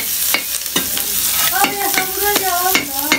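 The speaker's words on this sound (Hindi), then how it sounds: "ये देखिए नमक कर दिए और नमक से ऐसे हम चला देंगे" Leftover cooked rice stirred with salt in a pan, a utensil scraping and knocking against the metal in brisk repeated strokes, close up with no voices.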